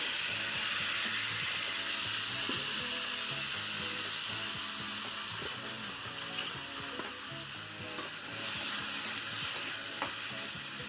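Small diced potato pieces fry in hot oil with turmeric, giving a steady close-up sizzle and hiss with occasional stirring clicks and scrapes.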